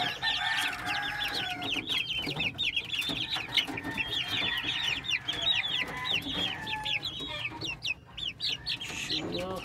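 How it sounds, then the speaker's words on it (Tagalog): Shamo Asil and Rhode Island Red crossbred chickens cluck and chatter continuously at close range, with rooster crows rising over the busy flock noise. "Tingnan nyo ang Shamo Asil at saka crossbred sa Rhode Island red."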